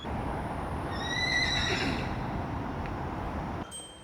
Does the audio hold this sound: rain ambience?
no